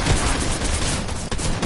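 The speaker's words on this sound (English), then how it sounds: "Somebody shooting?" Rapid bursts of gunfire in a PS4 shooter game crackle loud and close, a dense volley running throughout with a brief dip before resuming.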